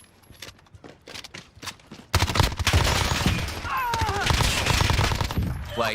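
MP5 submachine gun hip fire in the Warzone video game, with rapid bursts of automatic gunfire that start after a quieter opening of clicks and footsteps and then continue densely and loud, with faint speech in the background.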